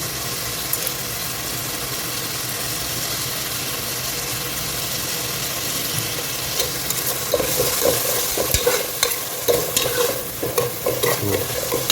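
Cloves, cardamom and onions frying in hot oil for beef biryani, stirred in the pan; a continuous close sizzle with scraping stir strokes growing busier in the second half, no talk.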